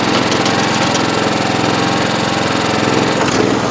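A GX75 riding mower running with a problem noise: a loud, steady engine drone carrying a rapid rhythmic knocking or clatter throughout, close up with no talking.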